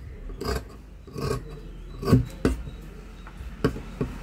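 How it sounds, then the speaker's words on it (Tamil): Scissors cutting a curved line through blouse fabric while shaping the piece, giving a few short, soft rasping snips spaced irregularly, close up and fairly quiet with no talk. "இதுலேருந்து ஒரு 1/2 இன்ச் அளவுக்கு இப்படி வளைவில் கட் பண்ணி எடுத்துக்கலாம்"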